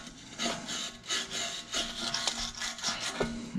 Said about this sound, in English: brush and just go in here and kind of clean it out